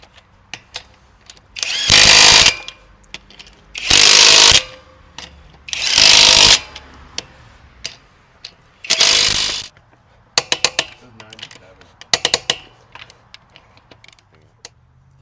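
Impact wrench or ratchet tightening the wheels back onto a 2022 Toyota Tundra during a front brake service, with four loud buzzing bursts of about a second each, then a run of sharp clicking ratchet sounds, close up in a quiet garage.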